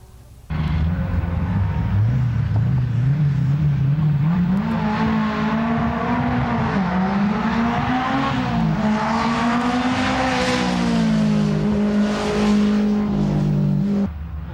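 A turbocharged Skoda race car at Donington Park roars in loud and close after a quiet start, its engine note climbing and wavering through gear changes as it holds full power, then easing off at the end.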